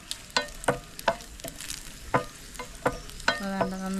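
Raisins fry in ghee in a pan, giving a soft sizzle under sharp, regular clinks from a stirring spoon, about one every third of a second.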